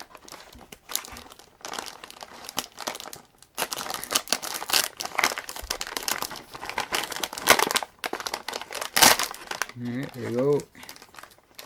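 A plastic bag holding Japanese goods crinkles and crackles in bursts as a sticky trading card is peeled off it, with a person talking briefly near the end.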